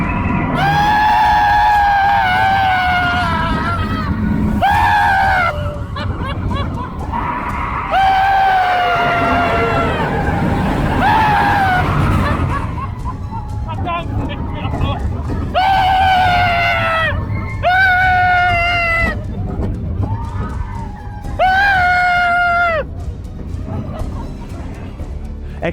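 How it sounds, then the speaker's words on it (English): Riders on the Expedition Everest roller coaster at Disney's Animal Kingdom scream in long, loud, repeated bursts over a steady rumble of the ride, with crowd voices mixed in throughout. "I'm going to join in with all the screaming."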